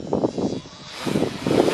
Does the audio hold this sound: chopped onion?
no